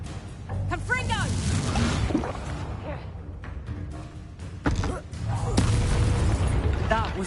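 Confringo fire spell blasts in the video game Hogwarts Legacy, heavy booming bursts over a churning rumble of combat, with vocal cries and grunts mixed in between the explosions.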